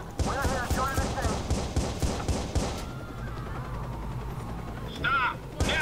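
Gunfire in the video game Watch Dogs, a rapid burst of loud, close automatic shots in quick succession, then a lull with a distant whine before a few more shots.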